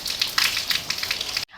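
Steady rain patters and crackles on surfaces just after a strong dust storm, a dense, even hiss of close drops that cuts off abruptly at the end.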